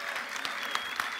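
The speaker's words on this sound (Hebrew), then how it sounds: "קהל נכבד, קבלו במחיאות כפיים את מנחי הערב שלנו" Audience applause welcoming the hosts at a high school graduation ceremony, a brief burst of many people clapping with some sharper individual claps, moderately distant in a hall.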